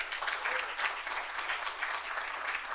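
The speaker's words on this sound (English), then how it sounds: "We can clap." People at a city council meeting clap together in a steady, moderately quiet burst of applause, heard from a distance across the chamber.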